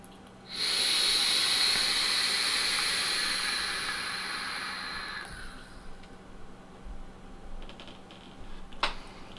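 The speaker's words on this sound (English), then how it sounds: "The airflow is wide open, and um, I'm using high VG liquid. And let's take it for a vape." Vaping a Wotofo Serpent RTA with the airflow wide open and high VG liquid gives a long, loud airy hiss of inhalation that fades into quiet breathy noise and a faint click.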